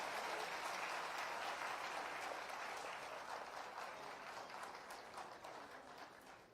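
A large crowd at a government housing allotment ceremony attended by the Rajasthan Chief Minister gives loud, dense applause, a steady roar of many hands that slowly fades toward the end.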